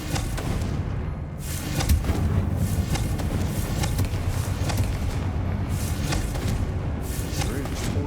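Confringo fire-blast spells explode in Hogwarts Legacy combat, producing loud, dense booming thuds that repeat in quick succession over a constant roar of game action, with a voice talking throughout.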